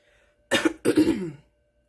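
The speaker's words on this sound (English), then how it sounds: "Y'all probably will hear me coughing on and off." Two rough coughs in quick succession, close and fairly loud, after a brief quiet moment; no talking.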